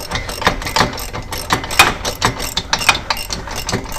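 A hand ratchet wrench turns 17mm nuts while a motor mover is fitted to a caravan on a lift, giving a close, steady run of rapid clicking pawl strokes with no talk.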